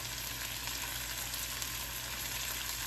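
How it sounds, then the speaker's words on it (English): Onions frying in a pan at home for a Sunday dinner, giving a steady, close, even sizzle with a constant crackling hiss throughout and no voices. "Sizzle, sizzle."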